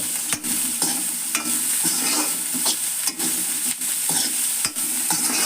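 Bitter gourd fried with salt in a pan sizzles loudly and steadily, close by. The sizzle is broken by regular clacks as a spatula stirs and scrapes through it. No voices.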